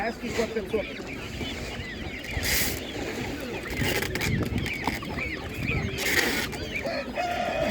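Broiler chickens and other fowl at a busy animal market cluck and crow in a noisy mix, fairly close, while people talk over them.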